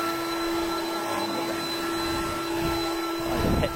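A leaf blower clearing cut grass from a backyard, its steady airy roar and high whine running loud and unbroken throughout, swelling slightly near the end.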